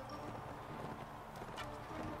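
Horse hooves clip-clop in a quick, steady gallop rhythm in the Mount & Blade Warband video game, faint and close with a continuous patter of hoofbeats.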